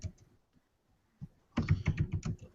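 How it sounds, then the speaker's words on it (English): Typing on a computer keyboard, with a few scattered key taps at first, then a quick, dense run of clicking keystrokes close by in a quiet room. "I'm typing in some book references for you."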